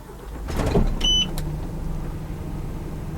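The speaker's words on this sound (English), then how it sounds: "This is the sound of a 6-cylinder Scania engine with 340 horsepower." A Scania bus with a 6-cylinder, 340 hp engine idles with a quiet, steady low hum, joined by brief mechanical clicks and a short beep near the start.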